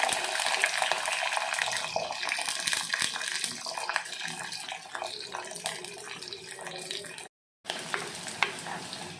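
Garlic frying in oil for a garlic curry, heard as a busy, close crackling sizzle with stirring clatter, a brief silent gap near the end, then the frying resumes.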